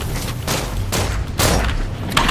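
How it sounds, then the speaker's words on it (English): A bomb goes off in the video game Nosgoth: a couple of loud, close booming blasts over a rumbling game background, with a sharp crack at the end. "Whoa, bomb."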